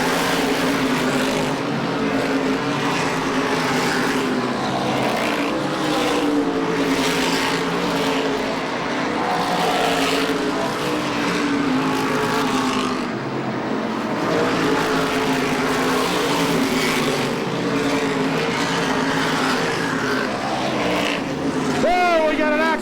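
Modified race cars at Lee USA Speedway roar past continuously, engines rising and fading as the pack circles close by, with a commentator talking over the steady loud drone.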